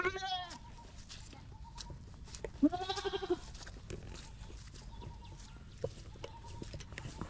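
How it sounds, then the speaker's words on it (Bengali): Goats bleat several times in wavering calls on a village goat farm, a louder one near the middle, with soft background noise and a few clucks. "এই সব ছাগল রেখে দিয়াম"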